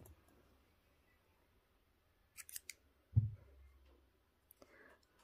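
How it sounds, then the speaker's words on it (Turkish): Scissors snip crochet yarn once, a brief close click and cut in an otherwise quiet room, followed by faint handling sounds. "Burada 2 zincir çekerek ipimi keseceğim."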